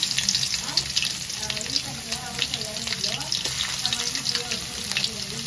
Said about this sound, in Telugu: ఇలా పప్పు బాగా వేగనిద్దాము.